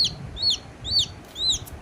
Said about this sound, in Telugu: మీ ఇంట్లో కూడా కోళ్ళు ఉన్నాయా కోళ్ళు ఇలాగే చేస్తారా